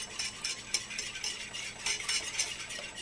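Flour being stirred into melted butter in a pan over medium heat to make a roux, with soft, faint scraping strokes repeating steadily.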